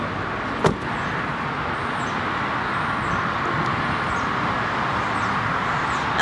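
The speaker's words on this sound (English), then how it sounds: "when you press this button up here, the liftgate goes down" The power liftgate of a 2012 Nissan Murano closes with a steady mechanical hum and whir that runs throughout. A sharp click or clunk comes early on, and there is no talk over it.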